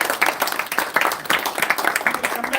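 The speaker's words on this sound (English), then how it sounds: "let's give a big round of applause" Audience applause at a devotional talk on the Bhagavatam, a dense, steady patter of many hands clapping for a few seconds, fairly loud and close.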